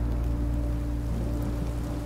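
Steady rain in Minecraft: Story Mode patters over a low, constant hum, a continuous wash of drops with no talking.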